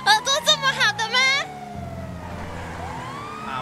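A police car siren in a role-play video game wails with a drawn-out falling and rising tone, faint and steady after a burst of talk at the start.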